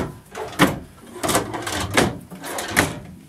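A drawer on a closet in a 2008 Keystone Cougar 243RK travel trailer slides and knocks, with several distinct sliding thumps spaced roughly every half second to second, close by and fairly loud.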